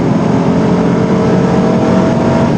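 A powerful Dowsett British sports car engine roars steadily at high revs, loud and close, as if heard from inside while accelerating hard, with no talking.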